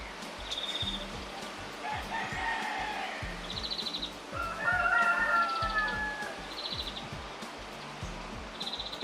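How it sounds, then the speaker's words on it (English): Chickens and cockerels crowing and clucking in the background outdoors on a very windy day, several drawn-out crows rising at intervals over steady wind buffeting and rumble, with no talking. "Yeah, you can hear the chickens in the background,"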